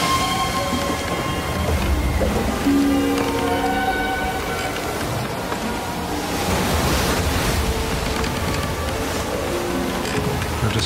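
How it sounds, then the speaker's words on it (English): A strong wind stirs up lake water, and the waves make a continuous rushing, churning wash with low rumble beneath it, steady and fairly loud throughout with no voices. "a strong wind was blowing and stirring up the water"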